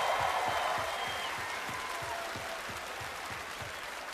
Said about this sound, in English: I want you guys to give a round of applause to all the people in the blue shirts for being so cool.